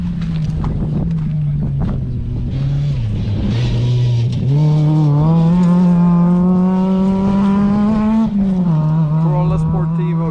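A Toyota Corolla Sportivo rally car runs through Cowan Forest at a Toyota Gazoo Racing event, its loud engine droning steadily then climbing as it accelerates past, with wind buffeting the microphone.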